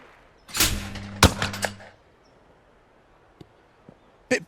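Two sharp shotgun blasts ring out in a video game of Olympic clay shooting, the second following quickly after the first, then a near-silent stretch with small faint clicks and a final short bang at the end.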